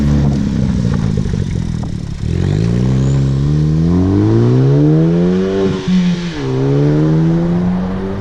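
A 2016 Specter Motor Works open kit car engine fires up loudly and revs, then settles into a steady driving drone with rising and falling pitch as it pulls away, close and continuous with no talking.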